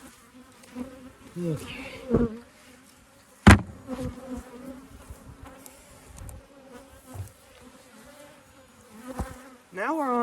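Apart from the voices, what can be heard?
honeybees buzzing at an open beehive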